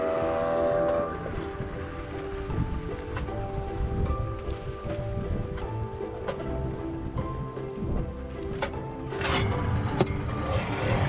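A speedboat on the sea at Digha runs past with a continuous droning engine and rushing water and spray, a busy steady roar with a few sharper splashes near the end.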